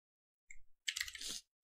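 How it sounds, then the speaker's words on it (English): Computer keyboard keys clacking during PES 2017 gameplay, a short close burst of typing with a brief click before it and another after, in an otherwise quiet room. "My keyboard make noise on my video, right?"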